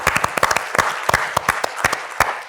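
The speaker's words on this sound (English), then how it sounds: "Let's give a round of applause." A small audience claps steadily for a few seconds, sharp individual claps close by blending into light applause.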